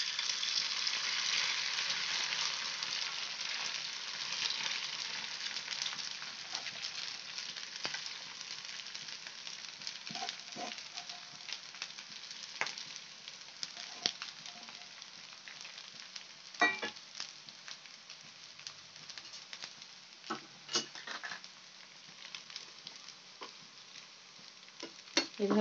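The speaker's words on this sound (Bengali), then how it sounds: "এবার তেলটা গরম করতে দিয়েছি, দিয়ে আমি এর মধ্যে দিয়ে দিচ্ছি" Vegetables coated in cornflour, pepper powder and salt fry in hot oil for a chop suey, giving a steady, close sizzle broken by scattered sharp pops and crackles.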